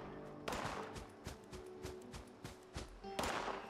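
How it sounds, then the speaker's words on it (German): Repeated sharp gunshots crack in an irregular rhythm in the video game Fallout 76, some in quick bursts, with thuds between them, moderately loud and close. "Schüsse, hier sind überall Schüsse, wo ich gerade bin."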